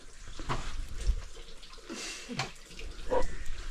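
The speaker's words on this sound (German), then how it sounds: "Und dann haben wir hier einen Bereich, wo sich gewaschen wird, Sachen gewaschen wird, wo das Wasser ankommt" Running water at a washing area in an Amazon village, a steady wash of flowing water with scattered splashes and drips, close by and moderately loud, with faint background sounds and no clear talk.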